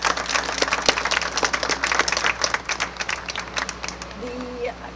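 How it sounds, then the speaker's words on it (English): Audience applause at a Cultural Medallion ceremony honoring Eleanor and Franklin Delano Roosevelt, loud dense clapping from a crowd that thins toward the end as a voice and murmurs emerge. "Can we collectively thank them again with your applause?"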